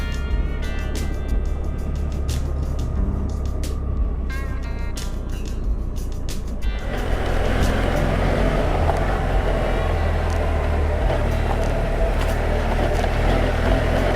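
A dirt bike in third gear runs over rough ground on a coastal adventure route, its engine droning loudly and steadily and swelling harder halfway through, with wind and rattling mixed in.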